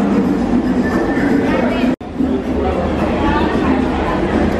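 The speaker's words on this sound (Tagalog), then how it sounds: "Train lang talaga siya." A train runs past in Dubai with a steady, loud rumble and rattle that fills the whole stretch, while people talk and chatter nearby throughout, broken by one brief cut in the sound.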